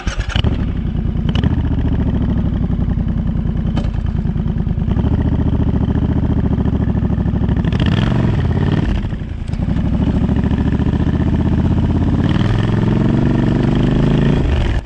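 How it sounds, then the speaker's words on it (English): A Triumph Scrambler 1200 XC engine with stock exhaust rumbles loudly and continuously up close, with deep exhaust burble and a few revs rising and falling. "One of those things is most definitely the sound from the stock exhaust system."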